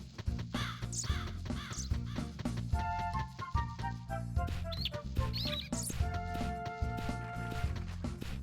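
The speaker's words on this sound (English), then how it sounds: "I hear birds." Birds chirping in the game Otogirisou, bright repeated calls and caws laid over steady looping background music, fairly prominent and ongoing throughout.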